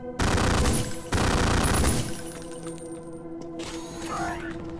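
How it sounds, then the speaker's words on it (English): A turret in Ion Fury fires in long, loud, rapid automatic bursts, two heavy stretches of gunfire followed by quieter mechanical rattling and clanks, with no one talking. "Is that a turret? What is that?"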